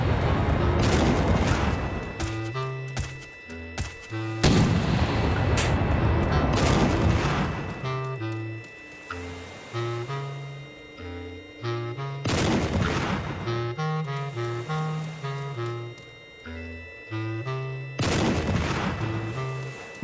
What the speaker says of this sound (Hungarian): Itt jön az ágyú.